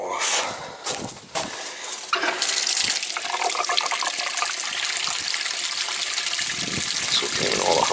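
Tap water gushes steadily from a house faucet during plumbing winterizing at an oceanside home, a continuous close hiss that follows a few knocks and clanks from handling valves.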